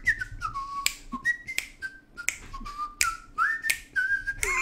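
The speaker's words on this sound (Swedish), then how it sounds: "För jag visslar så här." Someone whistles a series of short, bright rising and falling notes, interrupted by several sharp finger snaps, with no talking.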